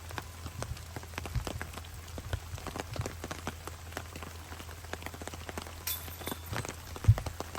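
Rain falling during a golf tournament patters steadily on surfaces, with many light, scattered drops and a few sharper taps, close by and fairly soft.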